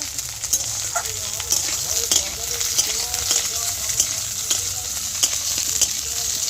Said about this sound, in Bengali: ঢ্যাঁড়সটা ভাজা হয়ে এসছে